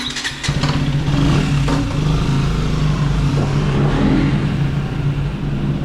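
A 2025 KTM Duke 125 motorcycle engine fires back up and holds a loud, close, steady idle with slight revving, droning unbroken for several seconds with no voices.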